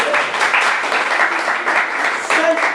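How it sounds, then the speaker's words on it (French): Audience applause at the Miss Afrique Montréal 2013 pageant, cheering on the artists: dense, steady clapping with some crowd noise, holding at a fairly even loud level throughout. "On les applaudit pour les artistes."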